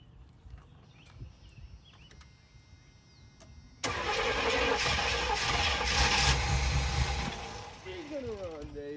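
A GMC C3500 pickup truck engine cranks and catches, a sudden loud mechanical churn that runs steadily for a few seconds before easing off, with a voice talking quietly earlier.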